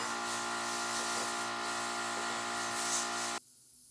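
A loud, steady hiss of compressed air blasting powder out of 3D-printed metal parts runs continuously, then cuts off abruptly near the end.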